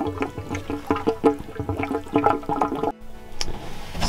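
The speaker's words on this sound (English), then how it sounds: "Let that low point drain go." Water gushes and gurgles from a low point drain in a cabin's plumbing during winterizing, with sputtering knocks and bursts of flow, then a steadier rush after a brief break, close and fairly loud.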